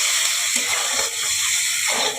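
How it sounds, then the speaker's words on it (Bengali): Water poured onto hot fried spices in a pan gives a loud, close, continuous hiss and rush of steam lasting about two seconds, with no one talking. "আমি জল দিয়ে দিলাম।"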